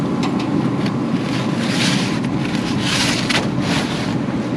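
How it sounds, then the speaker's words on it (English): Strong cold wind gusts steadily outdoors beside a barbecue grill where sticky Chinese ribs are cooking, a loud continuous roar buffeting the microphone with no one speaking. "The wind is picking up."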